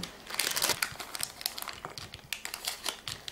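Almonds are poured from a crinkly plastic bag into sbrisolona cake batter, giving a dense run of close crackling, rustling and small clicking pattering with no talking.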